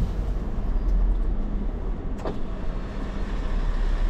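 Steady low rumble of a car driving along a forest track, with a continuous engine and road drone that stays fairly loud and even throughout, with no voices.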